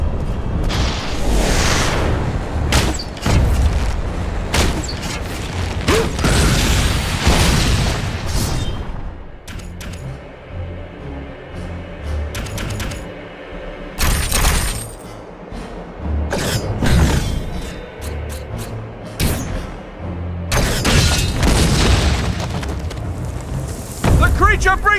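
A creature's fire attack in Lord of the Rings: War in the North, loud booming bursts and roaring blasts repeating through a busy battle, with shouting voices over the top.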